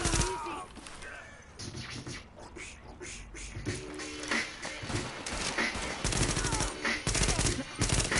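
Rapid automatic gunfire in The Division, sustained bursts of shots layered over game noise with a voice mixed in, moderately loud and busy throughout.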